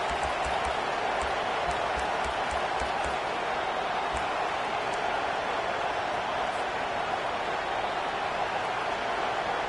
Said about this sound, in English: this home crowd is fired up and ready to make a difference today